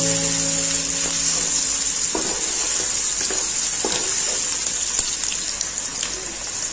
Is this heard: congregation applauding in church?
no